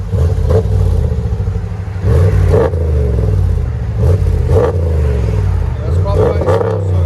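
A 2021 RAM 1500 with the regular 5.7L HEMI V8 and a dual exhaust, mufflers deleted and resonators kept, gives a deep, close idle rumble broken by several short, sharp rev blips.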